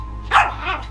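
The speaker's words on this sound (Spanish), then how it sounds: "¿por qué ladra? Porque quiere que la, porque quiere que la curemos." A dog barks twice in quick succession, close and fairly loud, over a low steady hum with no talk.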